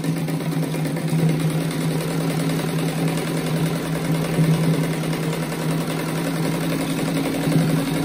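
A sewing machine stitches strips of denim for a patchwork rug, giving a steady close mechanical hum and rapid rhythmic needle chatter that runs continuously without pause, with no speech.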